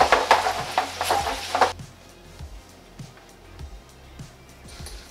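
Pasta is tossed in guanciale fat in a pan for carbonara: a burst of sizzling and clattering as the pasta moves for under two seconds, then quieter soft scraping and stirring taps.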